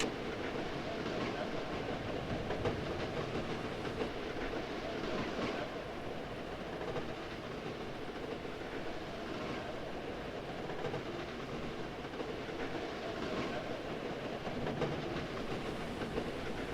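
A train ride in a video game: a continuous rolling rumble with faint clickety-clack, steady and moderately quiet for the whole stretch, with no talking.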